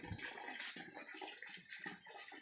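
Water runs out of the drain outlet of a homemade cement catfish pond built from a cut-down old tank, a close, steady splashing trickle with gurgling pulses.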